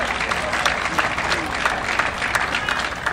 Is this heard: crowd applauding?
yes